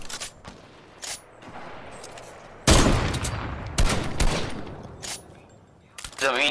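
Gunshots in Fortnite: sharp separate cracks come at irregular intervals, with one loud dense burst in the middle, and a voice briefly speaks near the end.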